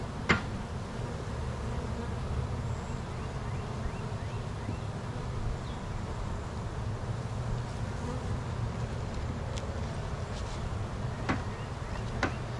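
Honey bees buzz continuously around a hive outdoors, a dense steady drone with occasional individual bees passing close by.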